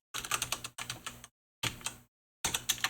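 Keys on a computer keyboard are tapped in quick bursts of clicks, four separate flurries split by short silences, close and clear with no talking.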